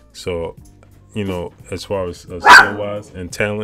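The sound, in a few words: dog barking in the room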